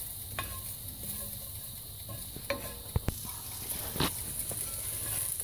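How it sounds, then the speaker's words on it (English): Mustard seeds pop in a hot pan while tomatoes and onions are stirred. Sharp, scattered pops and clicks come every second or so over a soft continuous sizzle, with faint scraping. "stirring it frequently until, like, you hear there's some mustard seeds in there when you start hearing them pop"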